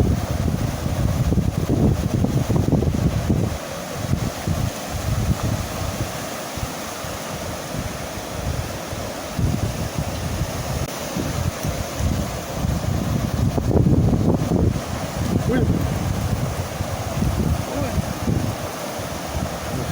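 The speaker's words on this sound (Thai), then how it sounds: "ลมก็แรงครับ" Strong wind roars and buffets the microphone continuously, with gusty low rumbling bursts throughout.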